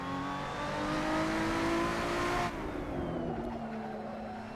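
A Lotus 3-Eleven race car at Laguna Seca in Assetto Corsa screams at high revs, its engine note rising steadily before an abrupt drop and a lower, settling drone, loud and continuous.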